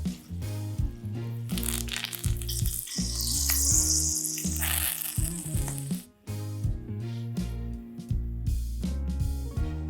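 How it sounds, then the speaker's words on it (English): Sage leaves fry in a little oil, a bright continuous sizzle with crackling pops, competing with loud background music. "I'm just gonna fry them in a little bit of oil right here."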